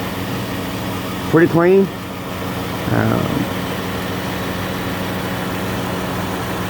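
A 2015 Dodge Caravan SE mobility van's 3.6 V6 idles in a smooth, steady low drone with even harmonic hum throughout, while someone speaks briefly over it twice.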